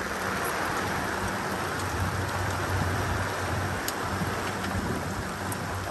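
Steady, dense rain pattering on surfaces all around, a constant hiss with scattered nearby drops and no voices.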